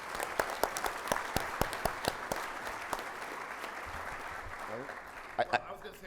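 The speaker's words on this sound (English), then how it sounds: "And let me just get a round of applause for all of our Springboarders for 2022." A conference audience claps in a round of applause, a dense patter of many hands heard at a moderate distance with a few sharper individual claps standing out, fading toward the end.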